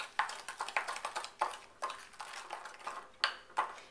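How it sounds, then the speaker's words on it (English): A spoon clinks against a bowl while stirring a sugar and vanilla mixture for cheesecake, making a steady series of soft, close scraping taps at a fairly even rhythm. "And we're going to stir this."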